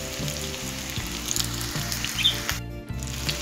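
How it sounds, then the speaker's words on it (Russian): Chicken rolls stuffed with cottage cheese and garlic fry in a pan, a steady close crackling sizzle with a low rhythmic hum beneath, cutting briefly quiet for a moment before resuming; no talking. "Со всех сторон обжариваем слегка."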